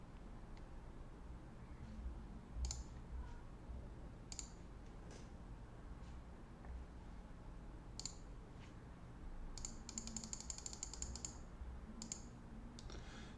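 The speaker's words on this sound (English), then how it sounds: "I guess I'll be just clicking" Computer mouse clicks during a PokerStars 5NL Zoom online poker session: scattered single quiet clicks, then a fast cluster of repeated clicks, over a low steady room hum.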